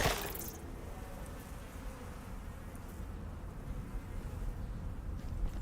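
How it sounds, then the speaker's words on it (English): Bees buzzing in the survival video game Icarus, a dense steady drone of many insects close by, continuous and fairly faint throughout. "Bees."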